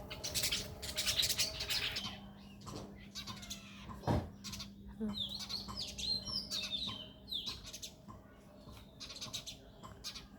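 Small birds, tailorbirds and a rival species taking over their nest, chirp and squawk in rapid, overlapping bursts outdoors, moderately close, with a low steady hum underneath.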